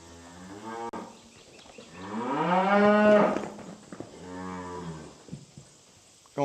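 Calves bawl and moo at a livestock sale barn, several loud overlapping calls swelling together near the middle, with quieter moos before and after.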